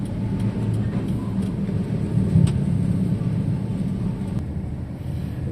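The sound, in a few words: traffic with container trucks on the road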